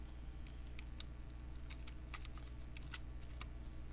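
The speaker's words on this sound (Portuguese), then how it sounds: "Tô apertando no Ctrl T" Quick clicks from a computer keyboard as a shortcut is pressed during an image-editing session, several light taps spread irregularly over a steady low hum, close and faint, with no voices.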